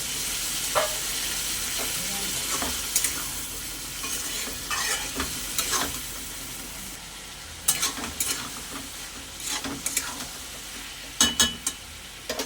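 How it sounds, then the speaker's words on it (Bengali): Banana flower frying in spiced masala with a splash of water, a steady close sizzle broken by repeated scraping stirs and spatula knocks, with no talk. "অল্প একটু জল দিয়ে আরেকটু ভালো করে কষে নেব"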